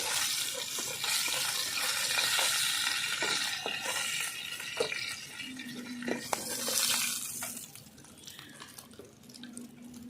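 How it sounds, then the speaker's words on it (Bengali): Pomfret (rupchanda) fish frying crisply in hot oil, a steady close sizzle with scattered drips, pops and clinks from stirring or lifting, no talking. "হয়ে গেছে ভালো করে ভেজে নিয়েছি কড়া করে ভেজে নিলাম"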